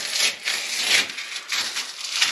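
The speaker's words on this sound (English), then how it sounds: "Let's take a little knife, cut down at an angle to the corner." A small knife slicing through foam trim at an angle near a corner, giving soft, close scratchy cuts in a few uneven strokes with brief pauses between them.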